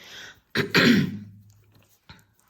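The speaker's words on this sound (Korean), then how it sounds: "그러면 기침이 저절로 나와요." A person coughs from airborne powder while mixing resin, a couple of harsh close coughs followed by a trailing throat sound and a small final cough, in an otherwise quiet room.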